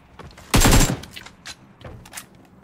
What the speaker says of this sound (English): I'll keep the shotgun for now since I'm hitting my shots